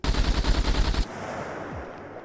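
An automatic weapon fires a rapid burst at a level-four house in the SCUM video game to test bullet penetration, about a second of loud fast shots that cuts off abruptly into a faint low tail.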